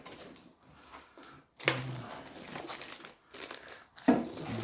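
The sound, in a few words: packing peanuts rustling in an unboxed parcel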